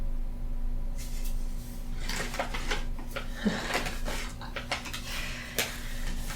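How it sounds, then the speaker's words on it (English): Irregular rustling and scratching against something crinkly, with short sharp crackles and taps coming in bursts over a steady low hum, fairly close. "That's my cat Nadine trying to dig into a bag."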